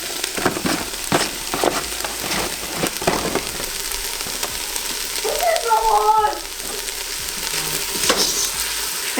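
Chopped green peppers fry in oil for a homemade spaghetti sauce, a close continuous sizzle with irregular scrapes and taps as they are stirred, a brief louder crackle midway, no voices.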